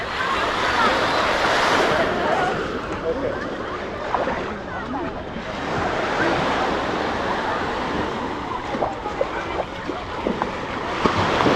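Mediterranean Sea waves wash onto a beach at Byblos, Lebanon, a steady broadband surf roar with gusty wind buffeting the microphone and people talking nearby.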